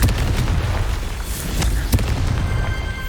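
Confringo explosive spell blasts in the Hogwarts Legacy video game, a run of loud, booming bursts with several sharp cracks over a dense low rumble, fairly close and continuous.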